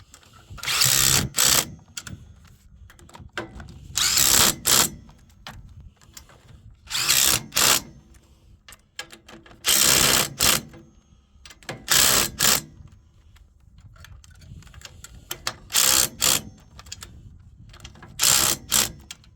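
A power tool drives down five wheel-style nuts in loud, close, rattling bursts of hammering, each lasting about a second with brief pauses between, repeated in a rhythmic sequence.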